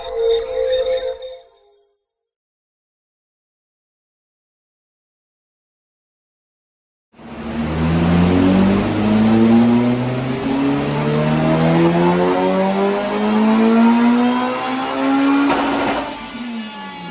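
Supercharged Honda Civic FN2 Type R track car with VTEC engine, silent at first, then a loud, close engine rev that climbs and holds for about ten seconds.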